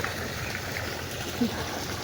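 Water runs steadily into a rice paddy. The gentle, continuous flow is heard close by, with a brief soft splash partway through.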